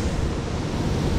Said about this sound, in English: Behind me, though, there's that waterfall right there.